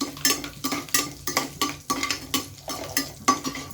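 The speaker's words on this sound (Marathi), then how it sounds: "आता आपण ह्या कढईमध्ये जे तेल तापलेलं आहे त्याच्यात आपण हा सगळा गरम मसाला घालून घेऊया" Garam masala is stirred into hot oil in a kadhai for palak paneer, giving a steady run of close, sharp utensil scrapes and clinks over a soft sizzle, roughly two or three strokes per second.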